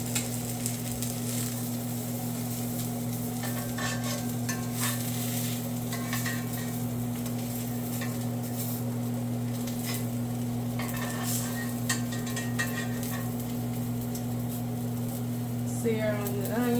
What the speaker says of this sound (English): we're just gonna put it right back in that same pan